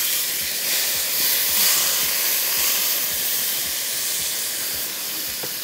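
Tomatoes go into a hot pan with garam masala, letting out a steady loud steamy hiss and sizzle with faint soft ticks of stirring underneath.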